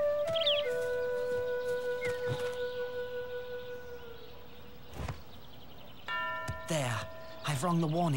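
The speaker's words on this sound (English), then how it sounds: "Just ring the warning bell." A warning bell rings in the Lord of the Rings: The Fellowship of the Ring PS2 game. Clear tonal chimes strike and decay, with a cluster of rings near the end, mixed with game sounds and a vocal howl.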